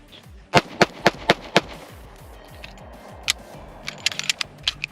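A real gold-plated gun fires a quick string of five sharp, loud shots, then after a pause a single shot and a looser, quieter cluster of cracks, all nearby.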